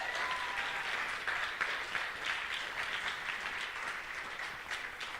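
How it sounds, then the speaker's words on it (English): Sustained crowd clapping at a graduation ceremony, a full, even burst of applause from the audience holding steady throughout with no break. "One more time, please give these guys a round of applause."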